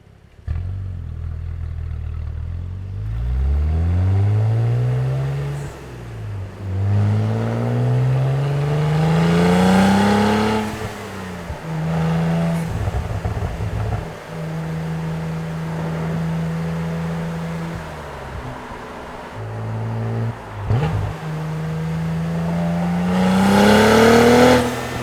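Engine and exhaust of a Cadillac CT4-V Blackwing revving and accelerating through repeated rising pulls, loud and close, with brief drops between gears and a steadier drone in the middle.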